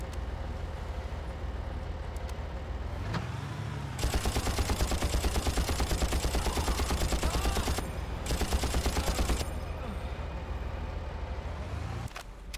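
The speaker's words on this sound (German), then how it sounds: "Hier ist der Schuss, guck mal." Rapid gunfire bursts in the video game Far Cry, a dense crackling volley lasting several seconds, a brief pause, then another burst, loud over a steady game background with no talk.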